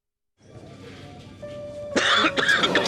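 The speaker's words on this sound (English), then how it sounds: "Nobody wants to be around a nasty mucus cough." A wet, phlegmy mucus cough sounds up close, two or three harsh bursts in quick succession after a short lead-in of faint murmuring, loud and isolated.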